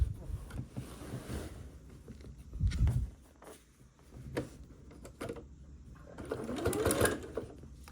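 A sewing machine stitches quilt binding on an heirloom quilt in short starts and stops, its quiet mechanical whir broken by handling rustles and brief pauses.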